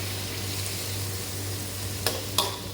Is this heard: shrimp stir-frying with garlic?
yes